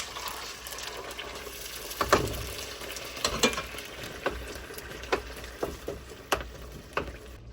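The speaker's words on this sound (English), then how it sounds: "After everything is done, for our mixture, we're gonna halfway refry some beans" Beans being half refried in a pan for a shredded beef chimichanga filling, giving a steady soft sizzle broken by sharp scraping and stirring clicks from a utensil, close up and without talk.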